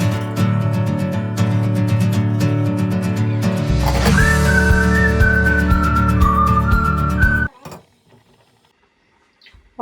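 A kitchen pressure cooker releases a long, loud whistling hiss that rises in pitch and holds steadily for several seconds, then cuts off abruptly, leaving near silence.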